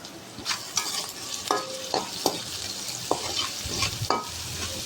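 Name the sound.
onions frying in pan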